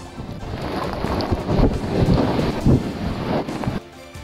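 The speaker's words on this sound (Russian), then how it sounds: "на Москву и область обрушились сильный ветер с дождем" Loud, gusty wind roars against the microphone with a broad rushing wash during a storm with rain, continuous for a few seconds before easing.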